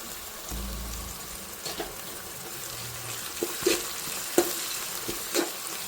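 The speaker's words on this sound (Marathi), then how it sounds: "लसूण आल्याची पेस्ट आहे ना ती पण टाकते म्हणजे त्याला चांगलीच परतून निघन कांद्याबरोबर" Garlic-ginger paste frying with onions in a pan: a continuous close sizzle punctuated by repeated scraping stirs of a spoon against the pan, with no talking.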